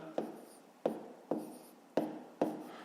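A pen or chalk taps and scratches out handwritten numbers during a fifth-grade maths subtraction exercise, five sharp, evenly spaced strokes, close and quiet, with no talk.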